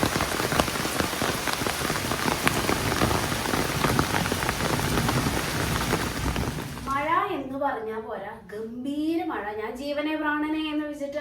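Heavy rain pours in Bangalore in a dense, steady roar, then gives way to a voice speaking over quieter background.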